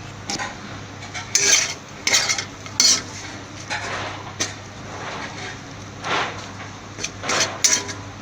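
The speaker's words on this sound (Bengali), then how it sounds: "আমি একটু নেড়ে দিচ্ছি।" Spoon stirring green chili shrimp in a cooking pan, with repeated scrapes and clinks against the metal over a soft steady sizzle, close and fairly loud, arriving in irregular bursts.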